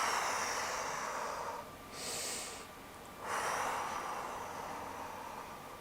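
Steady breathing during a full-body stretching routine, with two slow, soft exhales rising out of a quiet background hiss, close to the microphone and without any talking.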